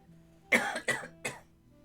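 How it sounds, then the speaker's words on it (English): A person with a lingering cough after being sick coughs three times in quick succession, close and distinct, each burst short and raspy, against a quiet background. "Still got the lingering cough, yeah, from when I was sick."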